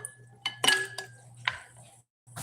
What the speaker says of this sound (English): Let's put some ice in it.